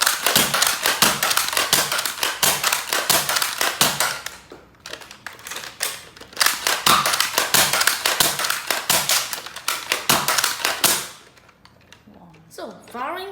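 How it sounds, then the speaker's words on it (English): An X-Shot Xcess toy foam blaster fires in rapid bursts, close and loud. Two long runs of quick sharp pops are split by a short pause, and a brief mechanical whir follows at the end. "Now, some burst firing."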